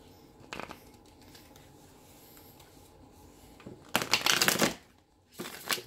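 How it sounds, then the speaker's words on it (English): Tarot cards are shuffled in brief crisp riffles, a soft flick early on, then a longer loud burst and another short riffle at the end. "One more good shuffle."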